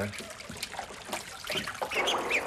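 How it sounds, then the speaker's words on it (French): A trickling, bubbling river sound is played as an effect in a staged performance. It sounds close and steady for about two and a half seconds, with faint voices in the background. "Bruit de rivière."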